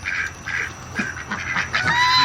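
Ducks honk and quack in repeated overlapping bursts, close and fairly loud, among farmyard fowl, with a constant background hiss and no talk.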